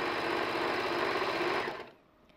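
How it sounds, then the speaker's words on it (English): A Brother computerized sewing machine runs fast and steady along a short seam, a close continuous whirring stitch that stops abruptly near the end, leaving quiet. "I've got a brother, so and this is the fancy machine that does everything."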